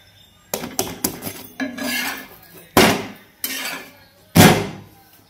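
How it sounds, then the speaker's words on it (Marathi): Stacks of dishes after a meal being loaded into a basket, with loud, close clattering and scraping of metal pots and plates in several bursts, the last one the heaviest. "जेवण झाली आणि पाटीत भांडी भरून ठेवली आता"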